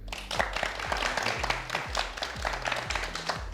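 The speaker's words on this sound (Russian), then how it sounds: "Аплодисменты." An audience claps steadily at a televised youth meeting with a regional head of government, the applause sustained throughout under low steady music-like tones.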